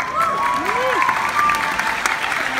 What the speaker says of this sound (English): Round of applause for Rachel and Dee Bradley Baker, the voice